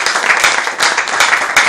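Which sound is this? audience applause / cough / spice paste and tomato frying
audience applause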